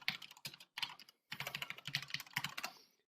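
Rapid bursts of keystrokes on a computer keyboard, clattering in quick irregular runs with a brief pause near the middle, close and fairly quiet with no talking.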